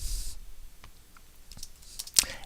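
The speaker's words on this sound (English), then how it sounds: "I'm just going to go down and start typing an additional note" A computer keyboard gives sparse, light key clicks, close and quiet, with a sharper tap near the end.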